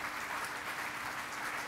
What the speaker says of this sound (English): a round of applause for Good Block